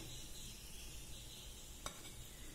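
Spice powders, ground pepper, coriander and chili with a piece of kudampuli, sautéing in a pan for Kerala karimeen pollichathu, giving a steady low sizzle with soft stirring scrapes and a brief clink near the end, no talking.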